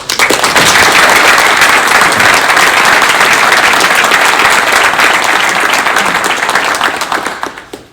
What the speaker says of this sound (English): I'd like to give the officials a round of applause